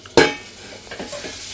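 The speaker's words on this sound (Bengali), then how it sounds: "আলু ভাজা চলছে" Potatoes frying in a pan for a home-cooked Bengali curry, a sharp burst of sizzling and stirring as they hit the oil, then a steady soft crackle with faint scraping of utensils.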